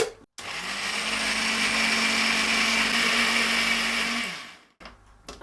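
A mixer grinder whirs loudly and steadily for about four seconds, grinding ginger and four large garlic cloves into paste for Kolhapuri mutton. It starts and cuts off abruptly, with no voices.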